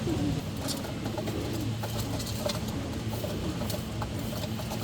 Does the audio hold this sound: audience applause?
no